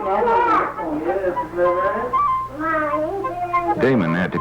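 A pet cat meows several times in a drawn-out, wavering way at Christmas, each cry clear and close with short pauses between.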